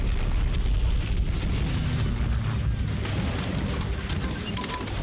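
Artillery fire in the strategy game Hearts of Iron 3, a rumbling barrage of deep booms and blasts rolling on without pause, heavy and loud, with no talk over it.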